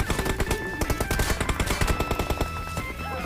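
Rapid automatic gunfire in PUBG Mobile, a steady rhythmic burst of loud shots that goes on without a break.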